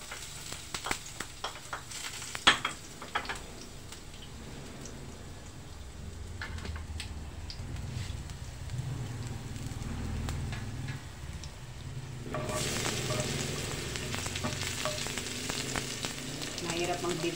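Garlic sizzles and fries in a pan as the first step of a tomato fried rice, a steady soft crackle that turns brighter and louder near the end, with a few utensil clinks and stirring sounds.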